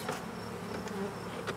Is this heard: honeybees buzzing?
yes